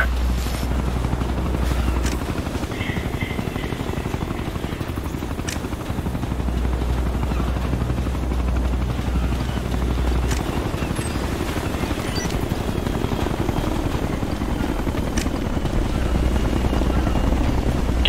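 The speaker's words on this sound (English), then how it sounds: "If that chopper spots us, it'll get messy real fast." An enemy helicopter in Ghost Recon Future Soldier, a continuous loud rotor thrum throughout with scattered sharp bangs of distant gunfire over it.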